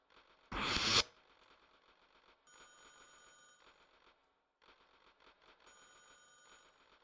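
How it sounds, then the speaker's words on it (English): A telephone rings in the background of the Space Quest 3 computer game, a short loud burst followed by two longer stretches of repeated electronic ringing at moderate level. "I like that you can hear the phone ringing in the background as well."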